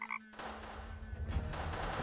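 A frog gives a single short croak in the video game Deponia right at the start, then a steady rushing background noise takes over, with no talk.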